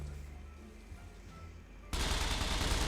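Gunfire in the zombie survival game SCUM breaks out abruptly after a quiet stretch, a loud dense burst of rapid shots filling the last second, with faint background sounds before it.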